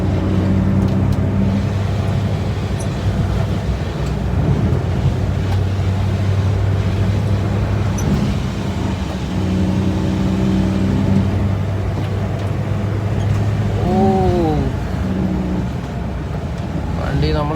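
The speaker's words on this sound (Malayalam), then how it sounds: "വണ്ടി കാല് കൊടുത്തു കഴിഞ്ഞാൽ പറക്കും" A Maruti Zen car accelerates hard in the rain, its engine droning steadily and rising in pitch over wet road noise, heard from inside the cabin, with someone talking over it throughout.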